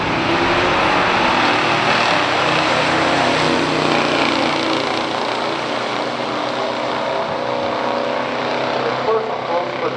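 A 1969 Oldsmobile Cutlass S with the W-31 package races a 1974 Chevelle 454 in a pure stock drag race, their engines a loud, continuous roar that stays intense and close for the whole stretch.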